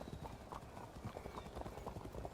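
Cavalry horses' hooves clop steadily in Field of Glory II: Medieval, a continuous mid-level clatter of many hoofbeats with a faint whinny, as a voice talks over the top.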